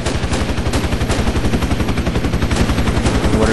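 Rapid, sustained machine-gun fire from the military shooter game Project Reality, a dense rhythmic stream of loud close shots with no gaps and no talking.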